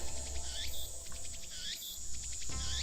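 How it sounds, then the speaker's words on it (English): Loud cicadas buzz and pulse in a steady, dense drone throughout, with repeated rising chirps layered over a constant hum, close and unbroken, with no one talking. "it's probably not helping that the cicadas are incredibly loud"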